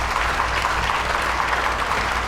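Steady applause from a concert audience at an Easter performance by the Sainte Trinité philharmonic orchestra, with dense, even clapping that holds at a constant level throughout without pause.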